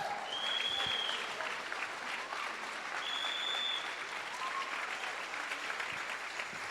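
A church congregation claps for Jesus during a sermon, a steady, even wash of applause that sounds somewhat distant, with a few high whistles or cheers cutting through.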